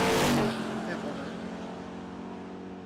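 Drag cars launching and running down the strip at the Texas Motorplex, a loud roaring burst of engines at the start that fades into a sustained, receding drone.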